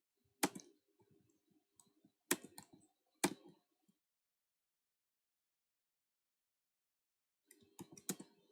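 Java code typed on a computer keyboard, heard as quiet clusters of sharp key clicks with long silent gaps between them.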